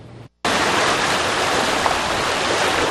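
Floodwater in Horry County, South Carolina, rushes and drains with a loud, continuous roar of flowing water close by after a brief moment of silence.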